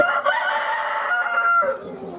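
A chicken calls out nearby, a short drawn-out crowing cry that rises and trails off, fairly loud and clear.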